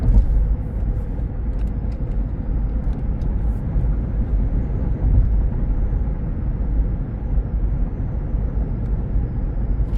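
A 2023 Lexus GX 460 drives along with a steady low engine and road rumble heard from inside the cabin, smooth and even without clear breaks between gears.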